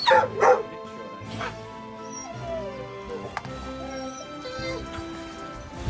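At a dog daycare, a dog barks, yips and whimpers in short excited bursts, close by, over a busy background.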